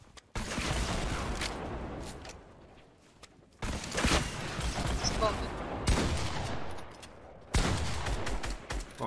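Rapid bursts of gunfire from a video game shooter crack out in several loud volleys, separated by brief lulls, with fast automatic fire layered over the action.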